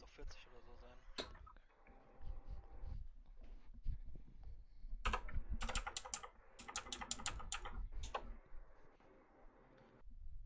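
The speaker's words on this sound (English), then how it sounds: "hope you guys enjoy keyboard ASMR" Rapid bursts of computer keyboard typing clatter in sharp clusters during an online Crash Team Racing match, mixed under steady close conversation between players.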